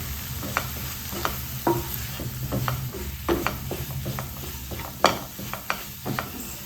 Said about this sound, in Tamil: இப்போ இது எல்லாத்தையும் மசாலாவோட சேர்த்து பச்சை வாசனை போகிற வரைக்கும் நம்ம குக் பண்ணுவோம்.